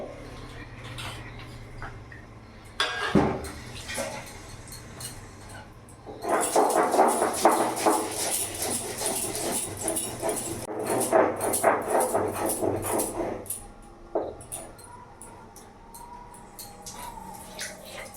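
Dry-roasted cumin, coriander and bay leaf are ground by hand on a stone slab, a rough scraping and rubbing that swells into a steady back-and-forth grind for several seconds before easing off, with a few knocks at the start.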